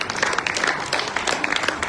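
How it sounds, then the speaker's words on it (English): An audience applauds the female searchers of the Fiji Guard Unit at a Fiji Day entertainment event in the UN compound in Baghdad: a dense, continuous burst of clapping from many hands, fairly loud and steady, with no speech over it. "another round of applause for the female searchers of the Fiji Guard Union."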